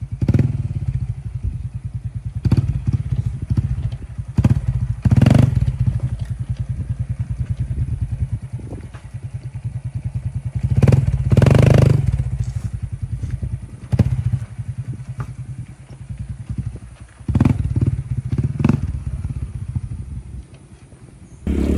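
A Honda CT125 motorcycle rides a rocky, loose-stone mountain road, its engine droning steadily and loud, with repeated clatters and thumps as the wheels jolt over rocks.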